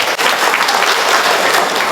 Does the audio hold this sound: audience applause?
yes